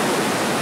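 Roaring rapids of the River Nile at Itanda Falls, a loud, steady broadband rush of churning water filling the brief moment.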